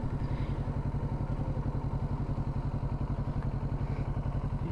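Kawasaki Ninja 650 motorcycle on the road, its engine putting out a steady, even low throb with a fast regular pulse, heard from close by at moderate level with no talking.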